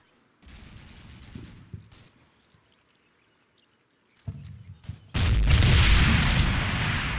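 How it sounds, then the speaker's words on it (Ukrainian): 40 mm grenade fire in the Combat Mission war video game: a few muffled booms and bursts early on, a pause, then a sharp blast followed by a loud, sustained roar of explosions and gunfire. "Ах, 40 мм гранати. Прямо ведуть обстріл."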